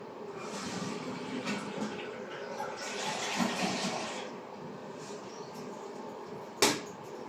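A public toilet flushed during a housekeeping cleaning class, a rushing wash of water swelling and fading over several seconds, with a sharp clunk near the end.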